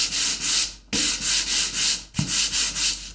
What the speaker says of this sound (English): it's always good to knock it back with a little bit of sanding so it doesn't catch